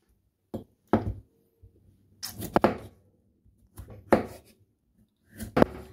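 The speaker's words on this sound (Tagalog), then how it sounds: "So, yan po yung paghihiwa natin dito." A knife cuts through chayote on a board in a kitchen, giving separate sharp chops spaced out over several seconds, close and crisp against quiet.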